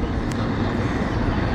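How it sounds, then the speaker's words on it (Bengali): An ATR 72-600 turboprop airliner roars nearby while departing for takeoff, a loud, steady broadband engine drone with no break across the short stretch. "বন্ধুরা, বিমানটি দেখেন"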